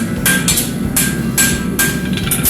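A hammer shapes a hot, tapered horseshoe on an anvil, with crisp ringing metal blows landing at an even pace roughly every half second, close and loud with no talking.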